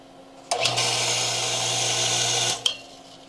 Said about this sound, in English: As soon as I started loosening this union right here, the pump turned on.